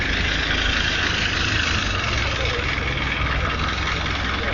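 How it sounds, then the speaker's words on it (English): A car engine runs steadily near the Lion's Gate in the old city walls of Jerusalem, a constant close rumble with broadband road noise and no pauses. "Another car coming out."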